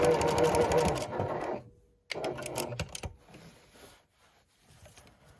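A sewing machine stitches through upcycled denim from old jeans in a steady rapid whirring run, stops, then resumes in shorter bursts that fade out, close and clear with no talk.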